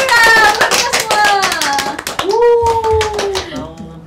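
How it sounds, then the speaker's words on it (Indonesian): A small group claps hands at a casual student chat show with cosplayers, a brisk burst of claps blended with cheerful voices and laughter throughout. "Tepuk tangan dulu dong buat kita semua."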